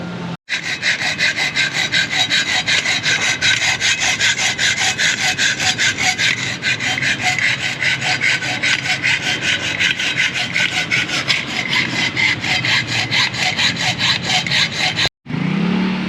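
Continuous hand sawing through wood, a fast rasping back-and-forth stroke, close and loud, running almost without break before stopping abruptly.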